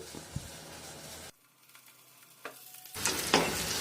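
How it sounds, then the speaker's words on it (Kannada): Mangalore cucumber roasting on a dosa griddle (tava), with a soft sizzle that cuts out briefly, then returns louder with a few scraping stirs close by. "ಇಷ್ಟೊತ್ತಿಗೆ ನಮ್ಮ ತವದಲ್ಲಿರುವ ಸೌತೆಕಾಯಿ ಕೂಡ ಬೆಂದಿರ್ಬೋದು"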